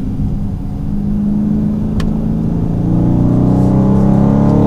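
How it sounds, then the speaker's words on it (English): Steady loud engine rumble from a 2019 Dodge Charger R/T Scat Pack on the road, the V8 drone holding close and even as it downshifts and pulls, with one faint tick partway through. "Oh man, we'll downshift again here."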